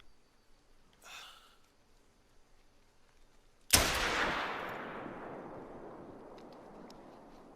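A single sharp .243 rifle shot in a hunting video game, loud and close, with a long rolling echo fading over several seconds after a faint earlier rustle.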